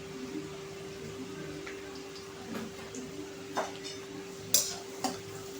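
Leftover rice and turmeric being stirred in a pan give soft, faint scraping and a light sizzle over a steady hum, with a few brief clinks of a spoon near the end.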